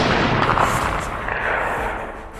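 A gunshot from an old Spanish-era rifle, a single loud sharp blast decaying into a rumbling noisy tail, set within a narrated Tagalog aswang horror story.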